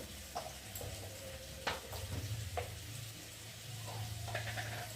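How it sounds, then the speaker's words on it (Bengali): Fish pieces fry with pointed gourd and potato in a pan, giving a soft, steady sizzle with occasional scrapes and clinks of stirring, fairly quiet and without talk. "লাল লাল করে ভেজে নিচ্ছি।"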